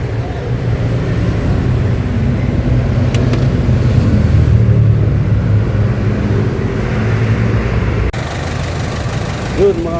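A Kia 2700 truck's diesel engine runs steadily during a road test, a loud low rumble that holds throughout with a brief shift near the end, with voices faintly underneath.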